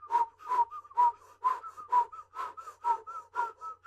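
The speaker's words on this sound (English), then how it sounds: "Ooh, I can kind of whistle like that." A person whistles a quick repeated phrase, about eight short chirping notes in an even rhythm, close and clear against a quiet background.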